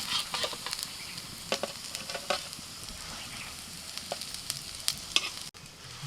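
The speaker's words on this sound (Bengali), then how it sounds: "এই টিক্কাটা ভাজতে খুব বেশি তেলের দরকার নেই, একদম অল্প তেলে আস্তে আস্তে করে ভেজে নিতে হবে।" Broccoli tikka fries slowly in a small amount of oil, giving a steady close sizzle with scattered sharp crackles and pops throughout and no one speaking.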